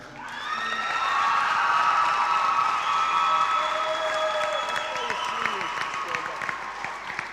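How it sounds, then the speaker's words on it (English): A round of applause honoring graduating seniors on school sports teams, a broad, sustained crowd clapping with scattered cheers and whoops, loud and full throughout and slowly tapering near the end. "I'd like to have a round of applause and honor all of the seniors present on teams today"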